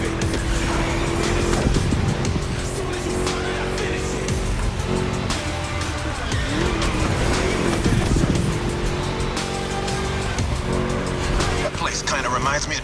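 A V8 American muscle car engine roaring in The Crew Motorfest, a loud, steady, rumbling drone during a race lap with some tire noise, under continuous talk and music.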